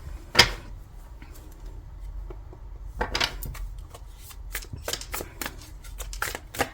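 Tarot cards being shuffled in short riffling bursts, one quick flurry near the start and a denser run of crisp card flicks in the second half, close and fairly quiet with no talk.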